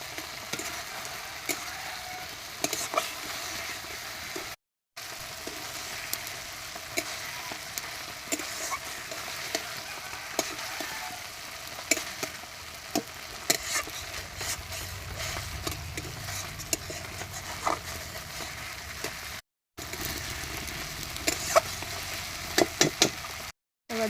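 Two fish are stirred gently in a frying pan of thick masala that has released its oil, giving a continuous sizzle with scattered scraping clicks and a few brief silent breaks, with no talking.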